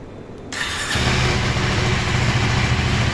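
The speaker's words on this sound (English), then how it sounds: "Let's check this exhaust sound of Husqvarna 401 Svartpilen." A Husqvarna Svartpilen 401 motorcycle engine fires up and settles into a loud, steady exhaust rumble close by, building from quiet to a strong continuous idle.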